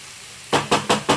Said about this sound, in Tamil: இது கொஞ்ச நேரம் அப்படியே வதங்கி இருக்கட்டும்